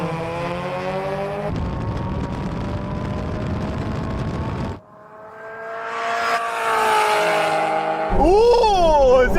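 Supercharged Mazda Roadsters, an NC and an NB, launch in a drag race with loud revving engines that hold and then drop off, followed by rising acceleration and a final burst of engine pitch sweeps.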